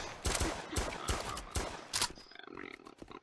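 A gun fires in the Roblox Gun Testing game, a rapid series of loud, punchy shots in quick bursts, followed by a quieter rattling tail.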